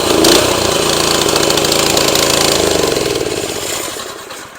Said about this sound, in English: As you guys can hear, it starts to surge even at full throttle.